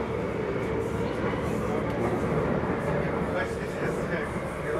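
Inside a moving train bound for The Hague, a steady low rumble and rattle of the carriage runs throughout, with voices talking over it.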